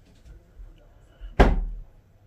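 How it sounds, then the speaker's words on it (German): A single door bangs shut once in the wind, a sharp thud with a short rumbling tail, against a quiet background. "Hier ist das sehr windig, die Türen klappen hier."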